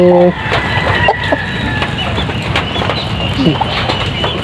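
Native hens clucking nearby amid a busy chicken-farm yard din, with a short tonal call at the start and scattered clucks throughout.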